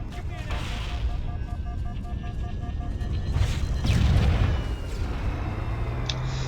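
Heavy booms from grenades stuck to an enemy in Halo: Combat Evolved, a loud rumbling blast swelling midway through ongoing battle noise and game sounds.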